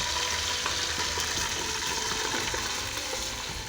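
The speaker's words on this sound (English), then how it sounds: "Then I'll pour in our washed rice." Washed rice poured into a pot of hot oil for Nigerian fried rice, giving a steady, close hiss and crackle of sizzling grains that holds evenly throughout with no talking.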